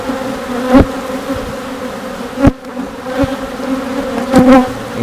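Honeybees buzzing around an opened hive while brood frames are inspected: a dense, close, continuous hum with individual bees zipping past the microphone in sharp passes, no talking.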